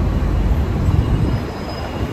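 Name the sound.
train at MRT station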